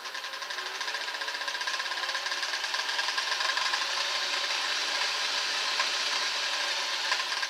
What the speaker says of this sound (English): This model sewing machine can do about 900 stitches a minute at the max.